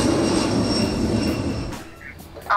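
A loud, broad private jet engine roar fills the air, then fades and thins toward the end as the jet takes off and pulls away.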